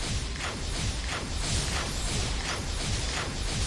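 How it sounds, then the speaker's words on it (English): Ranger firing the aimed bolt skill in Ragnarok Origin, a dense, continuous run of rapid mechanical clicks and snapping impacts layered over a busy, loud game soundscape, with no pauses across the stretch. "Let's now try the aimed bolt."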